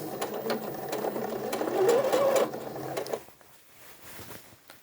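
A sewing machine stitches and back stitches a seam on an A-line skirt, a steady close mechanical whir that runs for a few seconds then drops off to quieter handling noise.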